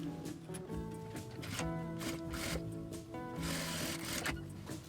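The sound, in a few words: sewing machine stitching fabric pockets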